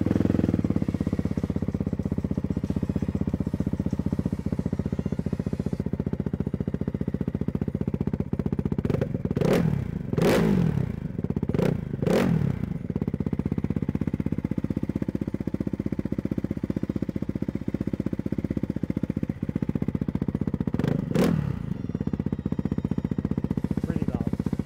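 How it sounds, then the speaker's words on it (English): Ducati Hypermotard 698 Mono single-cylinder engine with a full Termignoni exhaust, idling steadily with a loud, continuous rumble and a few sharp throttle blips, several clustered midway and one near the end. "It sounds absolutely awesome. This one does have a full Termignoni exhaust."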